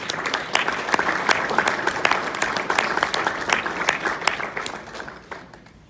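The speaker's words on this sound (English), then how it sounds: "Give her a round of applause." A banquet audience applauds at the Romulus Chamber of Commerce 2018 Person of the Year dinner, with dense, steady clapping from a large room that holds throughout and tapers off toward the end.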